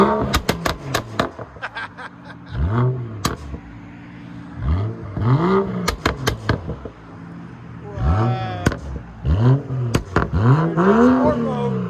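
A straight-piped 2013 BMW 335i turbo in sport mode revs in a series of loud rising and falling bursts, some short blips and some longer swells, heard close with pops and crackles between revs.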